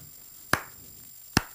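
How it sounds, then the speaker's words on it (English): Two slow, sharp hand claps about a second apart, crisp and close, with quiet room tone between them. "I got the slow clap."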